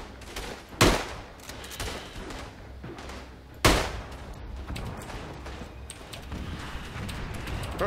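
Gunfire in the World War I shooter Tannenberg: two sharp, loud rifle shots stand out among a rattle of more distant shooting and battlefield noise, with no talking.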